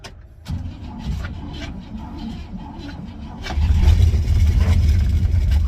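A 1957 Pontiac Star Chief barn find with its engine cranking and catching, then rising into a loud rough rev, heard close and alone.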